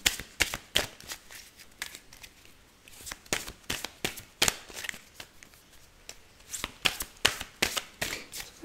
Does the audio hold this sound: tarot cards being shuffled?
yes